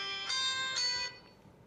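A telephone rings on a radio call-in show for an incoming listener call, giving two short, bright electronic rings in quick succession before fading into quiet room tone.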